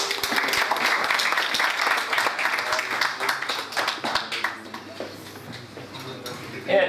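Audience applause at an author-meeting cultural event in Eyüp: a crowd claps briskly and fairly loudly, then thins and fades out after a few seconds as voices take over.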